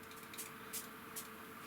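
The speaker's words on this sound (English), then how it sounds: "All you have to do is spray a bit of water," Spray bottle misting water onto dried gouache paint in three quick, soft hissing bursts, faint and close, over a quiet room background.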